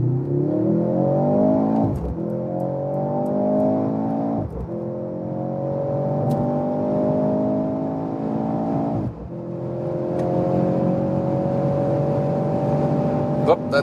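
A Mercedes C43 accelerates hard in Sports Plus mode, its engine note climbing steadily through the gears with two quick dips at the shifts, loud and sustained from inside the cabin.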